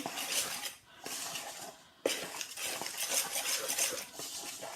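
Utensils scrape and clatter briskly around a bowl as ingredients for cheesy garlic bread are mixed, a continuous close scraping with a brief pause midway.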